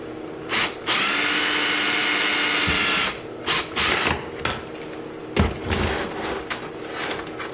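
A power drill bores a hole in a Harbor Freight ratcheting clamp, whining loudly in a long steady burst, then several short on-off pulses and a knock, close up.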